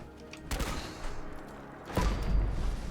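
Fireworks fired as an explosive weapon in the video game Fallout 76, giving two sharp booming bursts about a second and a half apart, the second heavier and rumbling on afterward.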